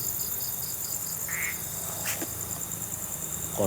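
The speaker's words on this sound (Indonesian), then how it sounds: "Itu suara kodok, kalau kayak gitu suara kodok." A frog croaks at night near a resort in Yogyakarta, a short nasal call rising over steady insect chirring and faint background hiss, fairly quiet and heard alone without talk.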